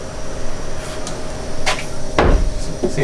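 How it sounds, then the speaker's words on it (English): A door is pushed shut in an old flour and feed building in Morgantown. Two or three sharp wooden knocks and thuds sound close by over a noisy, hissing room background, with no voices. "Alright, shut that door."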